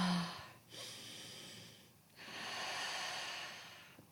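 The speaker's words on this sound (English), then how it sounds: "breathing deep into your belly" Slow, deep breaths drawn down into the belly, two long airy inhales and exhales close to the microphone, quiet and steady with no talking.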